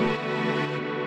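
A sustained, lush string pad spread wide across the stereo field by a short delay between channels, a single held chord ringing evenly and fairly loud before easing off, with no voices.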